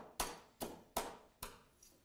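A hammer strikes a glass tube inside a Ziploc plastic bag during a physics demonstration, with four sharp, evenly spaced blows and a fainter fifth. The room is otherwise quiet.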